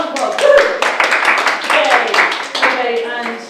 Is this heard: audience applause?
yes